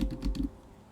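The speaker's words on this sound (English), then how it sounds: "I personally like the sound of typing" Quick run of computer keyboard typing, several close, crisp keystrokes in rapid succession that stop halfway, leaving quiet room tone.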